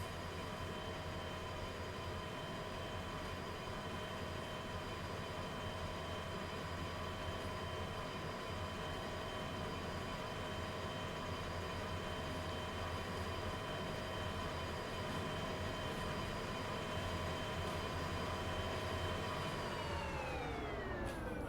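Freight train running in the railway simulation game Derail Valley, a steady droning hum with sustained whining tonal lines throughout, faint and even, the pitch sliding down near the end as the train slows.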